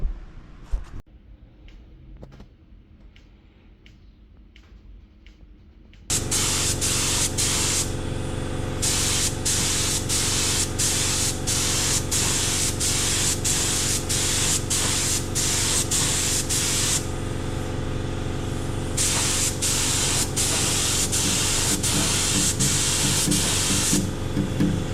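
Paint spray gun coating a 1967 Chevy Nova during body work: after a few quiet seconds with light ticks, a loud, steady, close hiss starts and runs on with slight pulsing.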